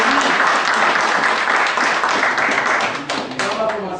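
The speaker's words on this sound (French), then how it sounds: "il faut applaudir Salinas" A crowd at a handball federation awards ceremony claps loudly for a club, sustained applause that thins slightly toward the end.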